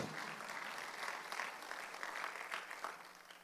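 A church congregation at a Sunday worship service claps together, a soft, steady patter of many hands lasting several seconds, fairly distant and without speech over it.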